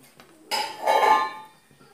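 A utensil clinks against a bowl while raw banana pakora batter is mixed with water, two short metallic clatters close by in otherwise quiet surroundings.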